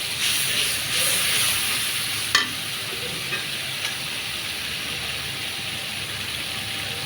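Garlic paste frying in hot oil for a tilapia and potato curry, a steady broadband sizzle with stirring, one sharp utensil clack partway through and a few faint taps, no voices.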